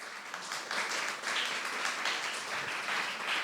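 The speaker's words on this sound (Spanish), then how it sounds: "les pido un gran aplauso para Marcos, para darle la bienvenida." An audience at a talk on editorial publishing in Bucaramanga gives warm applause to welcome a speaker. Steady, fairly faint clapping continues without pause from a distance.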